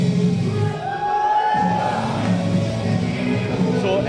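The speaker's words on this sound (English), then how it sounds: "Cheers from the crowd." A crowd at the 2018 World Yo-Yo Contest finals in Shanghai cheers and whoops in a large arena, a steady mid-level roar with sustained music tones running beneath it for several seconds.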